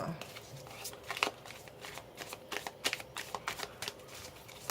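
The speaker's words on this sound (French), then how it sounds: "Allez, on va voir avec le tarot. On va mélanger un petit peu plus" Tarot cards being shuffled by hand: soft, quick riffling and sliding flicks in an irregular rhythm, close and fairly quiet against a faint background hum.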